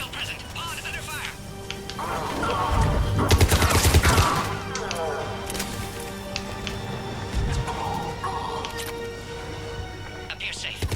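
Bursts of weapon fire in the Mass Effect 3 Legendary Edition video game, a dense volley peaking midway with scattered shots before and after, mixed with game voice lines and talk.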